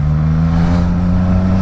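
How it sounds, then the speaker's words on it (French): A motorcycle with an exhaust baffle fitted runs close and loud, its engine giving a steady, deep, even drone with no voices over it. "Alors on entend toujours la bécane"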